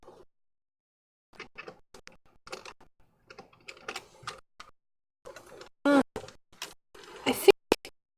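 Clicky computer keyboard typing during a Sims 2 custom-content creation livestream, with scattered bursts of keystrokes at close range, a few louder taps near the end, and brief talk in between.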